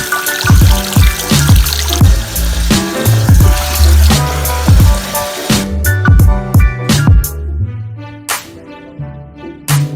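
Cold water runs from a bathroom tap, splashing and gurgling loudly in a close, uneven stream with irregular pulses, then thinning toward drips near the end.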